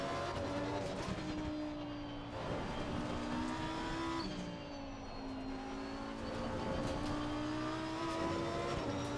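Engine of a video game race car revving up and down through gear changes while tires scrub and squeal on corners, steady and close, with faint talk under it.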